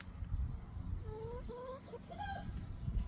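Backyard coop chickens cluck and squawk in short, bright bursts, fairly close, over a low rumbling outdoor background with no talking.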